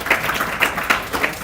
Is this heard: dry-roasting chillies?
no